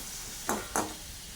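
Onion, tomato and garlic cook in a pan for bitter gourd thokku, giving a faint, low sizzle broken by two quick stirring scrapes in close succession.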